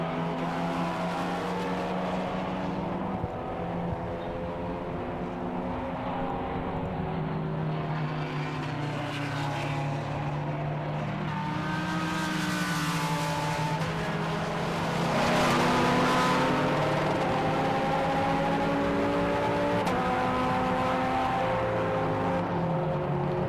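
Endurance race cars, including Praga and Cupra entries, lapping at Silverstone International, a continuous loud engine drone with shifting pitch as cars pass, no talk over it.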